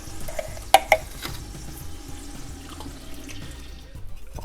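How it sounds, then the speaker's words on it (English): Water poured into emptied crushed tomato cans and swirled around while making a Sunday tomato sauce, heard as a soft, steady trickle and slosh with a couple of sharp metallic clinks near the start, with no talking. "add a little water to the can, give it a little swirl, add the water as well"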